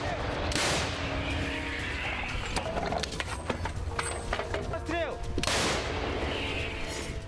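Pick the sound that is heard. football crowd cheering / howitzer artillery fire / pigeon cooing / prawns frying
howitzer artillery fire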